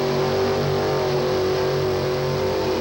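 A 1957 Thunderbird races through a mud bog at a motorsport event, its engine roaring loud and steady as it revs hard for about three seconds.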